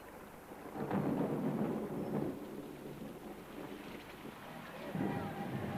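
Steady rain falls in a quiet village setting while low rumbles of thunder roll through in faint swells, with murmuring voices audible underneath.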